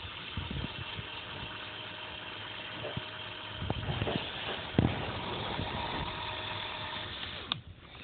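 A motorized Lego contraption runs with a steady, fairly quiet mechanical whir and hum, broken by a few small clicks and knocks, with no talking over it.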